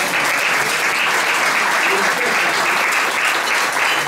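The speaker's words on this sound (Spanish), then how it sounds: "así que para ellos un fuerte aplauso de parte de nosotros" Dense, sustained applause from a crowd at a Canarian parranda gathering in Vegueta, loud and close, with voices mixed in beneath the clapping throughout.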